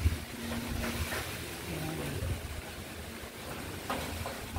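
Strong typhoon wind buffets a microphone in Pampanga under Signal No. 2, a steady broadband roar with gusts, while someone talks over it.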